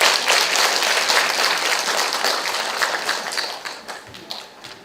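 An audience claps at a talk concert in a hospital setting, a full burst of applause that holds steady and then gradually thins and fades toward the end.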